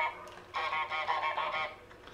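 Cartoon goose honking repeatedly in Untitled Goose Game, a run of loud nasal honks close up, alone with no talk, fading toward the end.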